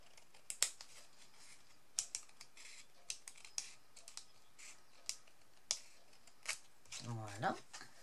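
Scissors trimming excess paper from a handmade greeting card, a series of sharp close snips spaced about a second apart, soft and crisp, ending with a brief murmur of speech.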